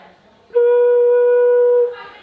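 A single sustained flute note, played with the fourth and fifth holes closed and the sixth half closed, sounds clear and steady for about a second and a half after a quiet start, then stops.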